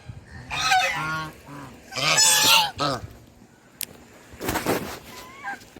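A pecking duck calls in several loud, close honking bursts separated by short pauses, with a faint rustle between calls.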